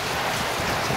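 Steady tropical rain falling in Cần Thơ, Vietnam, a dense even hiss of drops at midday with no voices over it.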